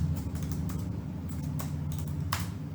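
Quick, even typing on a computer keyboard, with steady close clicks and a few louder key taps, over a low constant hum.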